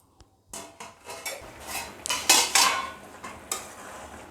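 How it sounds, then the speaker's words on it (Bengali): A series of metal clanks and scrapes as a lid goes onto a pot of village-style jackfruit and fat curry, several sharp knocks spread over a few seconds, close and fairly loud with no talking. "এবার আমি তরকারিটা ঢেকে দেব।"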